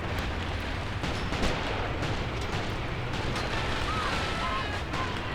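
In the Graviteam Tactics war game, an anti-tank gun fires at Panzer II tanks, its shots landing as dull booms inside a continuous rumble of battle, while a voice talks over it.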